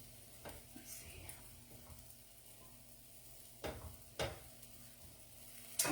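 A spatula scrapes fried rice off the bottom of a skillet, a few sharp scrapes over a faint background sizzle and stirring, quiet and close.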